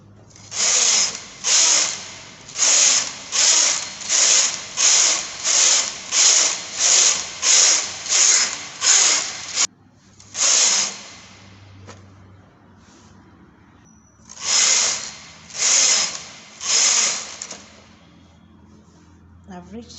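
A knitting machine carriage knitting rows on a garment, sliding back and forth in a fast regular series of rasping passes, a pause, then three more passes, close and loud with no talk.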